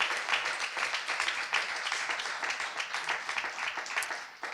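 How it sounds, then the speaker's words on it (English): Audience applause at a neighborhood development funding event, a steady patter of many hands clapping, fairly faint and distant, continuing without a break. "I think that deserves a round of applause."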